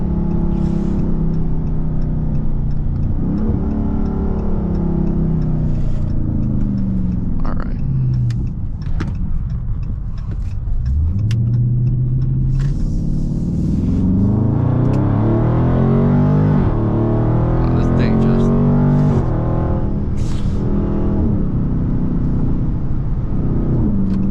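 A Dodge Scat Pack's engine rumbles and revs as the driver downshifts on a warm-day drive, with pitch climbing and dropping through repeated rises, loud and close inside the cabin.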